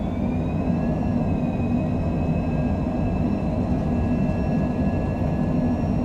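A Cessna Longitude business jet's engines roaring at full thrust during takeoff, a loud, steady broadband rumble with a thin high whine running throughout, with no voices.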